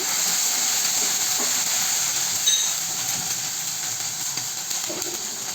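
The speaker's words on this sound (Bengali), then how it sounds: "আদা রসুন বাটা দিয়ে দিলাম তিন চামচ এবার নেড়ে দিচ্ছি" Ginger garlic paste frying in a pan for a lentil and Malabar spinach dish, a steady close hiss and sizzle with a few faint scraping stirs, no talking.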